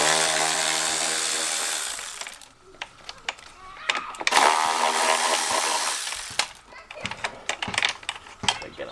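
Small T25 Torx screws being worked loose from the grille of an Audi A3, giving a dense run of clicky, rattling tool and fastener noises up close, with brief pauses and scattered sharp taps toward the end.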